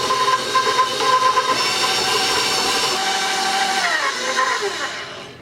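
Electric hand mixer beating butter, egg, sugar and vanilla into cookie dough in a bowl, a loud continuous whirring drone with rattling beaters that holds steady for several seconds and winds down at the end.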